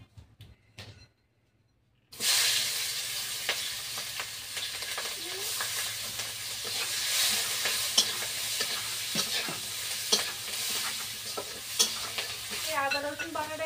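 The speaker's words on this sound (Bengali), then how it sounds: "ডিম ভেজে যা তেল আছে ওই তেলেই পেঁয়াজ কাঁচা লঙ্কা গুলো দিয়ে দেবো।" Sliced onions and green chillies hit hot oil left over from frying eggs, bursting into a loud, steady sizzle after a quiet start, with stirring scrapes and pops continuing close by.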